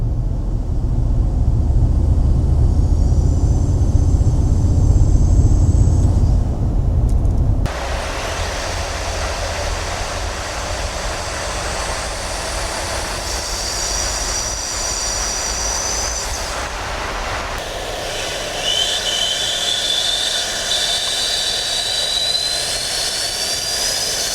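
A heavy engine of a modified third-generation Toyota Tundra pickup roars continuously with a high, rising whine of a turbo spooling up, the pitch climbing and settling in several waves.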